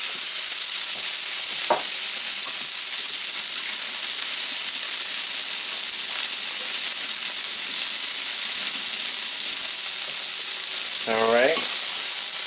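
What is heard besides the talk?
sauteing broccoli and carrot mixture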